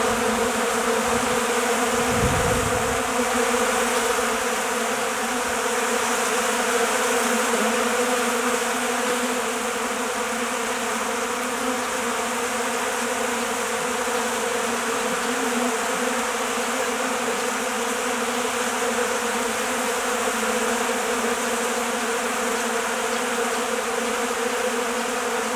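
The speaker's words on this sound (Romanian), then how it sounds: "Deci așa lucrează albinele." A February honeybee hive hums with a thick, unbroken buzz of many bees near at hand, steady in loudness from start to finish, with a brief low thump early on and no talking.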